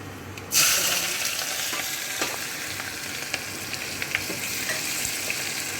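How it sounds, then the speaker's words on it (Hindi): Chopped onion drops into hot oil with bay leaves and green cardamom, erupting into a loud, sudden sizzle that settles into a steady crackling hiss with scattered light pops as it is stirred. "थोड़ी देर इसको चलाते हुए लाल करेंगे"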